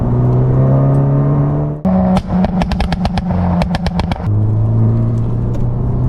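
A modified 420 BHP Honda Civic Type R FK8 engine revs in steady rising drones, then a burst of rapid sharp bangs and crackles on the overrun before settling back into a loud, close, sustained rev.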